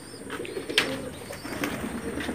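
A pair of Madrasi pigeons of the Pulsar line coos softly and steadily in a loft, a low rolling murmur with faint higher chirps scattered over it.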